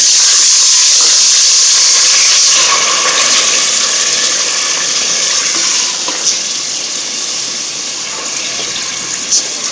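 Beef keema sizzling steadily in a hot pan, a continuous loud frying hiss with faint crackles and no voices.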